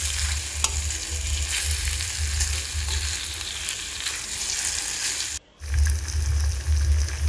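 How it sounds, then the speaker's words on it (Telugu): Sorrel greens, ripe red chili paste and tomato fry in a pan, Telangana style, with a steady close sizzle and stirring scrapes. The sound drops out for a moment, then the frying goes on with no talking. "ఇప్పుడు దీంట్లోకి పండు మిర్చి పచ్చడిని కూడా వేసుకొని ఈ మూడింటిని కలిపి ఒక 2-3 నిమిషాలు మంచిగా ఫ్రై చేసుకోవాలి"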